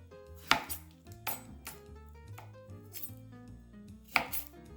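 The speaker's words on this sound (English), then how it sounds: "let's cut up some strawberries" A knife chops strawberries on a cutting board. About five distinct thuds fall at an uneven pace, close and clear, over soft background music.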